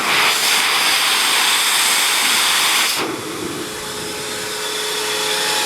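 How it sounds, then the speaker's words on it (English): A powerful hoover vacuum cleaner, used to blow air, roars with a loud, airy hiss that drops in pitch and intensity partway through, then builds slightly again. "You can hear the hoover tone"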